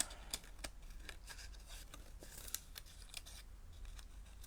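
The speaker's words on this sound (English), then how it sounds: "Just can't get my scissors in the right spot." Small scissors snip at a close, fiddly spot with quiet, irregular cuts, several faint clicks spread across a few seconds, with no talking.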